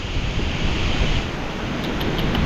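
Steady wind blows across open ground without a break, a broad, loud rushing roar close to the microphone with a surf-like wash and buffeting, no voices.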